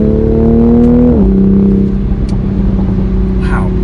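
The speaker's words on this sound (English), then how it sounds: "I never thought the pops were that quiet" A stock Toyota Supra driving in manual sport mode hums loudly, its engine note dropping as revs fall, with a few soft, quiet exhaust pops crackling faintly near the end.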